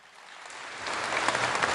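A crowd at a Serbian Progressive Party political rally in Raška applauds, the clapping swelling from a soft start into broad, dense applause that keeps building.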